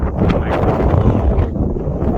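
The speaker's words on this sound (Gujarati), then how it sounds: "પવન છે આવું વેધર છે બેસ્ટ વેધર" Strong wind buffets the microphone high on a mountain at about 15,547 feet, a loud continuous roar with gusty surges and no talk.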